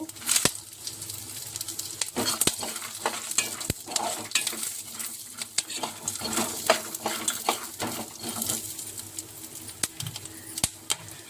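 Roasted gram dal and fresh coconut stirred in a hot pan, with a soft sizzle under repeated scraping and clinking of a utensil against the pan, plus a few faint bird calls in the background.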